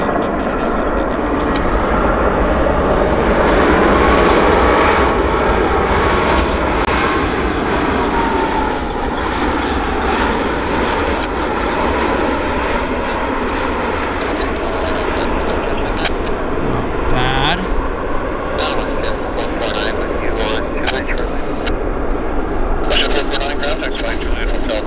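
A passenger airliner arriving from Montreal lands at Vancouver airport at sunset, a loud, steady broadband roar of engines and rushing air that holds for the whole stretch, with faint voices in the background.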